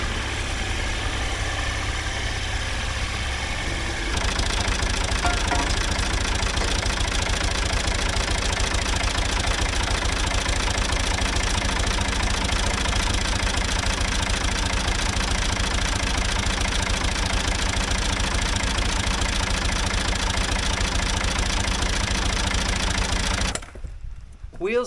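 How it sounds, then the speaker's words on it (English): An old backhoe's diesel engine running steadily with a knocking, rattling idle while the loader arm is raised, loud and close, with a brief shift in tone early on before settling into a constant drone. "We're gonna raise the loader arm up"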